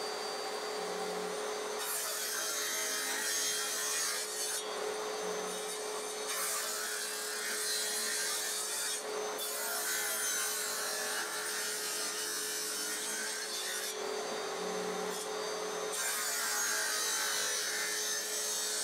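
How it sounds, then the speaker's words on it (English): A table saw rips thin slices of pine for a ukulele soundboard, sounding as several long, loud whining passes with brief pauses between them. "I made several passes on the table saw, raising the blade each time."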